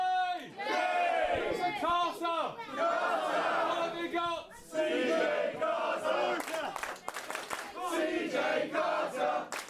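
An independent pro wrestling crowd at a CJ Carter versus Taylor James match, chanting and cheering in rhythmic swells of many voices, loud and sustained throughout with brief dips between chants.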